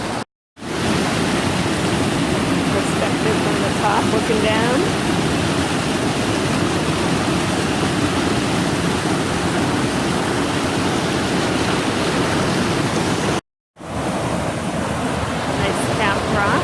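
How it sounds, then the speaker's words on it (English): Mountain waterfall and stream at Diana's Baths, a loud steady rush of falling water that fills the scene, briefly cut twice, with a voice speaking over it. "See some more falls up there."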